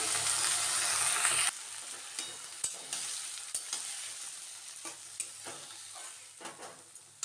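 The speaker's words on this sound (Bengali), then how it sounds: "এখন তেলটা বেশ গরম হয়ে গেছে কারণ আমি ফোড়নটা দিয়ে দেবো এরপর আমি কুচানোর শাকটা আর দিয়ে দিলাম" Water spinach (kalmi shak) and tempering spices hit hot oil in a pan, starting with a loud burst of sizzling that settles into steady quieter frying with occasional stirring clinks and scrapes, no voices.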